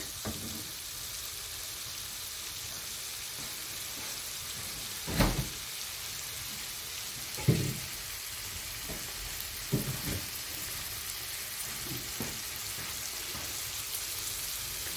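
Tomatoes frying under a lid in a pan while an omelette is being made: a steady close sizzle runs throughout, with a few soft clinks and bumps from the cookware.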